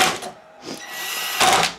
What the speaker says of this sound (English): I've got four screws to put in.